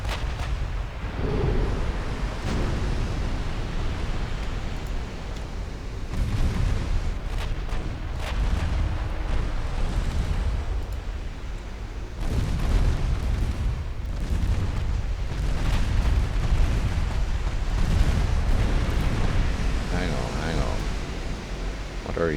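Secondary guns on a warship pound a destroyer in Ultimate Admiral Dreadnoughts, a steady barrage of overlapping booms and rumbling blasts that goes on without a break, with voices talking over it.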